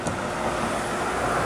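Steady broadband roar of cars driving along a road in strong typhoon winds at dusk, vehicle noise and gusting wind blending into a continuous wash with no clear individual pass-bys.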